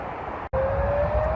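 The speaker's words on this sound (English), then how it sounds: "The Avonmouth siren." The monthly civil defence siren at Avonmouth sounds as a steady, faint tone heard from a distance over low outdoor background noise.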